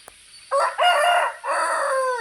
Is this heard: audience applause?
no